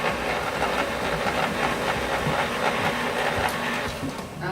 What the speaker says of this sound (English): I am going to mix this just to incorporate it.